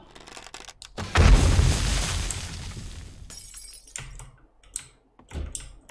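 Bombs detonate in the PC survival game 7 Days To Die: a loud, close blast followed by a long rumbling, crumbling decay, then several shorter thuds and knocks.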